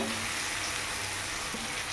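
Onion frying in oil with a little salt in a pan for doi katla, giving a steady, dense, close-up sizzle and crackle that runs unbroken throughout with no talking.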